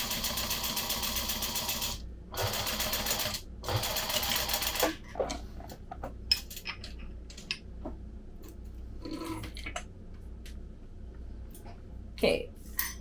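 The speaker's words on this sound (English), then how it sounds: "then I'm going back at 1/4 of an inch" Sewing machine running with a zipper foot in three loud continuous whirring bursts separated by short pauses, then quieter handling clicks and rustles of fabric.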